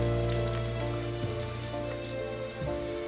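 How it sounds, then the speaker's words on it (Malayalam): Sliced onions fry in hot oil for a Thalassery chicken dum biryani, giving a steady close sizzle with occasional soft stirring clicks and a low hum underneath. "സബോള സ്ലൈസ് ചെയ്തത് ഒരു 1/2 പകുതി, അതും ഇട്ട് ഒരു 2 മിനിറ്റ് നേരം അങ്ങോട്ട് ഓയിലിൽ അങ്ങോട്ട് കുക്ക് ചെയ്യും"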